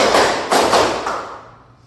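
A group claps in unison during a counting clap game, with several sharp, loud collective claps in a quick burst that fades out at the end.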